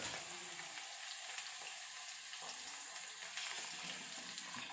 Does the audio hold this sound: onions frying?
yes